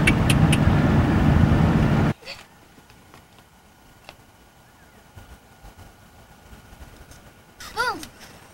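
Cars passing on a road, with a loud vehicle rush at the start that cuts off, then quieter distant traffic and another car swelling past near the end.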